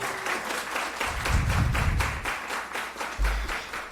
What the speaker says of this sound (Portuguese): eu gostaria de uma salva de palmas e um parabéns a todos nós